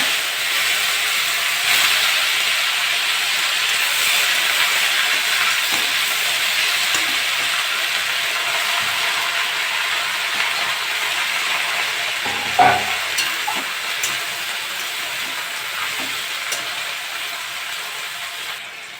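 Red spinach leaves frying in hot oil with tempering spices, a steady close sizzle and hiss throughout, with a brief clatter of stirring partway through.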